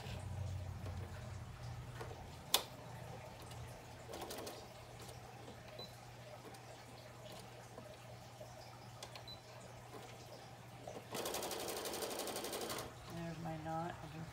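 A sewing machine stitches a fabric face mask. Faint background hum gives way to a brief burst of rapid, buzzing stitching near the end, with a sharp click earlier. Quiet talking runs underneath.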